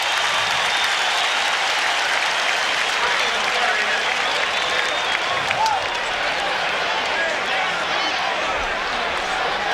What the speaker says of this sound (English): The crowd aroused on the hit by Marshall and Richardson